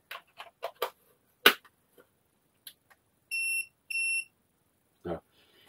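An Arrma Senton 223S RC car's ESC gives two clear electronic beeps in a row in its setting mode, preceded by scattered clicks and handling noises and followed by a short voiced sound.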